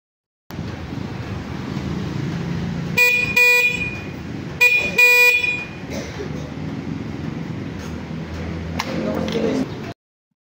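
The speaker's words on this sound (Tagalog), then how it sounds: "So ito mga boss amo yung kanyang stock na busina." An EXT 150 motorcycle's stock horn beeps in short bursts, three or four close, bright honks in quick succession, with someone talking softly around them against a low background hum.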